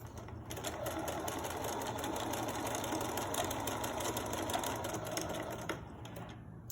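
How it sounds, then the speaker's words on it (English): A sewing machine stitches along the side of a fabric face mask, a steady fast mechanical whir and chatter heard close and continuous, easing off at the end. "I'm going to simply turn the mask around and stitch back down this side."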